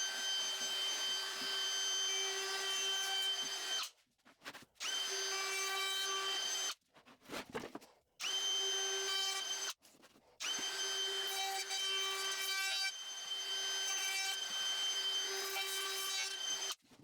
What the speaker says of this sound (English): With the router and the flush trim bit, I get that onion skin off by having the bearing ride the rest of the smooth surface